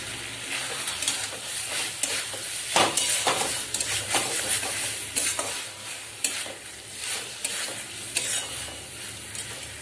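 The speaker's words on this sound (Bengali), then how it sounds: "আর এখানে কিছুটা বেরেস্তা দিয়ে দেব।" Fried onions (beresta) stirred into egg korma masala in a pan, with a continuous sizzle and repeated close spatula scrapes and clatters at an irregular rhythm.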